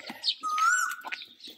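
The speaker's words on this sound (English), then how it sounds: "Yeah, that's a bird." A small bird chirps and trills close by in the Himalayan village of Dharamkot, with a sustained whistled note and scattered quick tweets.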